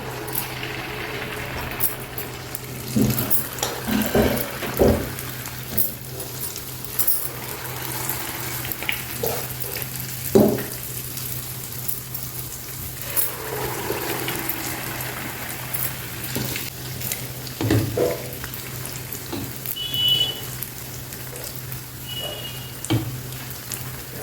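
Mysore bonda batter fries in hot oil, a steady close sizzle running throughout with occasional clinks and scrapes of a utensil moving the pieces.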